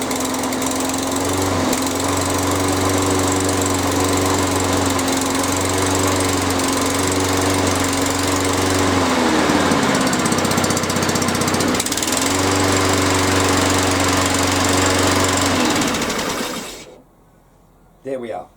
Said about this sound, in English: Pull back on the OPC lever and start the lawnmower.